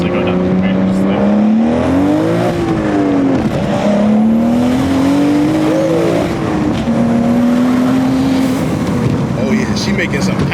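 A built BMW M235i with a six-speed manual pulls hard on a backroad, its engine note climbing loud and close through the revs, dropping at gear changes and rising again.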